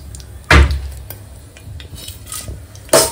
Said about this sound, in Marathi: आता आपण खडे मसाले टाकूया